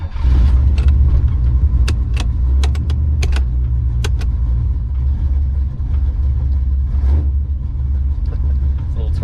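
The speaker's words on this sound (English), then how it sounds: "Here's a video of the car actually shifting." A car converted into a manual-automatic hybrid with a straight-cut gearbox, its engine a loud, steady close rumble as it shifts, with small mechanical clicks and rattles scattered through.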